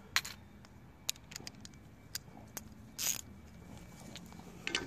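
A Stanley black chrome 54-tooth ratchet from a mechanics tool set clicks in quick, irregular bursts, close and faint, with sharp metallic ticks and a brief scrape against quiet surroundings.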